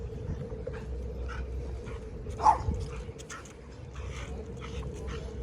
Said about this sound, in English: We got a little dog on my left-hand side protecting the property.